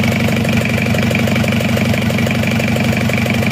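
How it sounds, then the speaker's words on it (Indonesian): An Isuzu Panther diesel engine runs steadily on a stand after a cylinder liner repair, a loud, even idle with a rapid rhythmic clatter throughout and no talk. "ini mesinnya sudah hidup, sudah aman"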